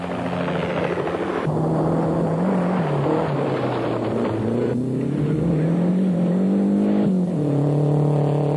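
A Renault 5 GT Turbo rally car driven by Alain Oreille on a rally stage in Australia, its engine droning loud and steady with rising and falling revs and gear changes, heard throughout without talk.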